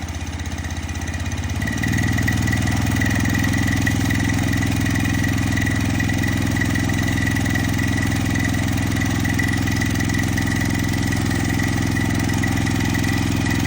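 An 18 hp petrol engine driving an 8-inch water pump with a 30-metre TAKARA delivery hose settles into a steady idle, a loud, even mechanical hum that steps up slightly after a couple of seconds and then holds constant, with no talk.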